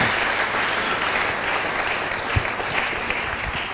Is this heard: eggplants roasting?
no